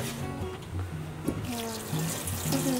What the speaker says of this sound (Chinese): 就是稍微的再用清水把它稍微洗一下